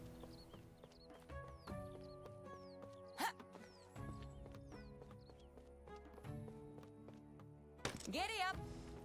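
Horse hooves clip-clop at a steady ridden pace in the medieval survival game Medieval Dynasty, sitting under game music and a brief whinny, with a voice speaking over it.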